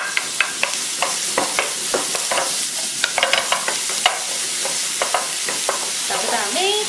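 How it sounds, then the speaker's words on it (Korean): Bacon, onion and button mushrooms stir-fried in a pan: a continuous loud sizzle with frequent sharp scrapes and clacks of a utensil stirring the food, close by and with no voices. "자, 그 다음에 이제 뭐가 들어가냐면 양송이 들어갑니다."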